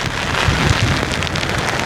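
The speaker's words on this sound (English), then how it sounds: "We're out here in the rain." Heavy rain pours down steadily during Hurricane Melissa in Old Harbour Bay, Jamaica, a dense close hiss with scattered heavier drops, no voices.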